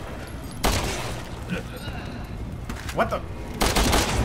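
Gunfire in the video game Resident Evil 6 comes as several sharp, loud shots and bursts, with a startled voice speaking over them.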